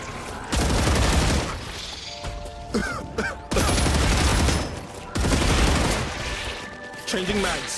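Video game gunfire in StarRupture comes in several long, loud automatic bursts separated by pauses, with electronic beeps and brief voice chatter between the volleys.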